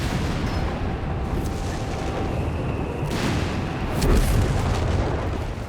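Artillery fire in the Company of Heroes 3 strategy game, with a dense rumbling battle bed and a few heavy booms, the loudest near the end.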